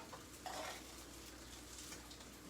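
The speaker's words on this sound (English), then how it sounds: "Our rice is literally frying for us" Quiet sizzling of rice frying in a pan with occasional stirring scrapes, low and steady throughout.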